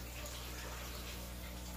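A small waterfall runs steadily in a 90 gallon mudskipper tank, a continuous soft splashing and trickling wash of water that stays even and close throughout, with no talk.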